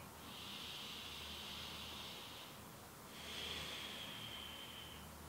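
Two slow, soft breaths during a relaxation exercise, each a long airy hiss lasting a couple of seconds with a short pause between, close and quiet with no talking.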